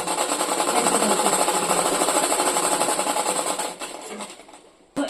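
A sewing machine stitches a gathered skirt, its needle hammering in a fast, even mechanical rattle close by, slowing and stopping briefly before starting up again at the very end.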